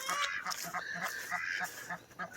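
Caged ducks quack and honk close by in a noisy, rapid string of nasal calls that overlap one another, with no speech heard.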